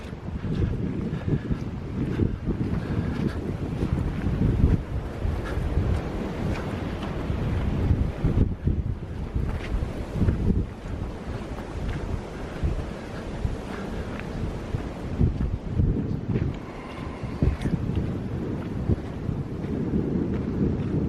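Water moving outdoors along a footpath on a winter walk near Avebury, a continuous rushing wash buffeted by strong wind gusts rumbling across the microphone, steady and fairly loud throughout with no voices.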